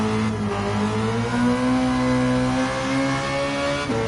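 A Mazda CX-30 in Gran Turismo 7 holds a high, loud engine drone near its 8,000 RPM redline for about four seconds, with only a slight dip in pitch near the end.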